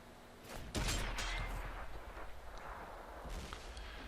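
A tank's main gun fires in World of Tanks on a Karelia map: one sharp, booming shot, then a rumbling echo and scattered battle noise fading under low background ambience.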